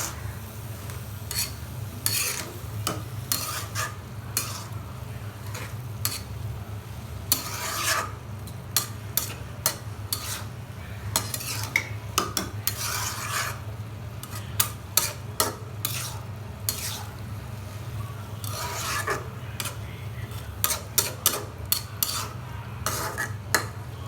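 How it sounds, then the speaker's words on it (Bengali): A metal spoon rasps and scrapes around a pan of frying prawns and cabbage in steady, repeated strokes, with sharper clinks against the pan and a low sizzle underneath. "ভালো করে নেড়ে দিচ্ছি"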